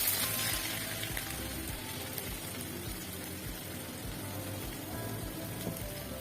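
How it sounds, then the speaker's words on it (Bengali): Chopped onions frying in a pan with jute leaves, giving a steady close sizzle with bursts of popping and crackling, loudest at first and then settling into an even fry. "এখানে পেঁয়াজ কুচি দিয়ে দিলাম"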